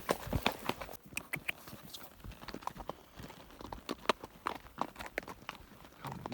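A small pony walks along a countryside trail, its hooves clip-clopping in an uneven, steady rhythm at close range over light outdoor ambience.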